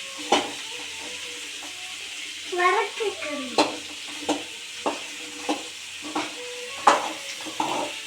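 Fennel and cumin seeds with a little oil sizzle in a pan while a spoon stirs and scrapes through them, giving a steady hiss broken by a string of distinct, close scraping strokes.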